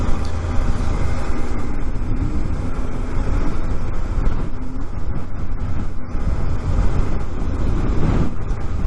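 A Suzuki 800DE adventure motorcycle cruises downhill on a 7% grade in fourth gear at about 35 mph, with a steady engine drone and heavy wind rumble throughout, no talk.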